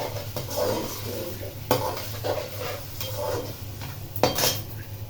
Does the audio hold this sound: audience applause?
no